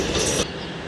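A Secunderabad–Siddipet DEMU train runs past with a loud, steady rolling rumble and hiss that eases off partway through the brief moment.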